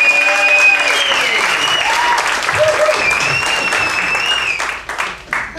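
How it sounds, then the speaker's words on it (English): An audience applauds a singing contestant, number 21, with a steady spread of clapping beneath whistles and scattered voices, the sound thinning out toward the end. "give a nice round of applause for number 21"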